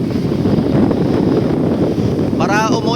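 Strong wind roars steadily across the microphone aboard a small outrigger boat at sea, with waves washing beneath; a brief whistling tone rises near the end over the constant gusting.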